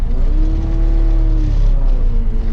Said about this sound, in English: Then ease back on the throttle.